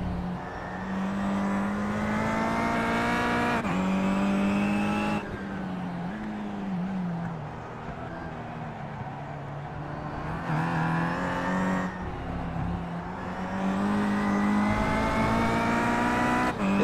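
Kia touring cars racing at Okayama Short Course in iRacing, engines droning loudly and steadily, revving up and down through gear changes as several cars run close together throughout.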